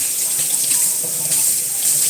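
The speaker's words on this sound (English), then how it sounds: "sorry, it's loud, just letting the water go down the drain" Water running steadily from a sink as it drains away, a loud, continuous hiss and splash that stays even for the whole stretch, close by with no voices over it.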